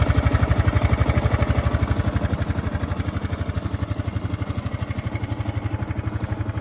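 A carbureted 2006 Honda Big Ruckus PS250 scooter idles just after a cold start, its engine chugging in an even, rapid pulse, loud and close, with nothing else heard.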